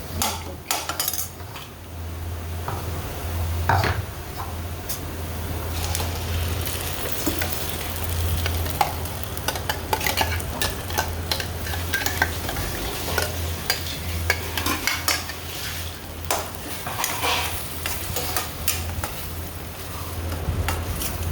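Steady stirring and scraping of a spoon in a pan as tomato puree is mixed into paneer curry, with a low sizzle underneath and frequent clinks against the metal, no voices.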